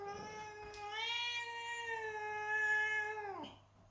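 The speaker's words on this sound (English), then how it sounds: "Speaking cat." A cat gives one long, loud, drawn-out meow with a rising then sustained tone, ending in a sharp drop, close up and without talk.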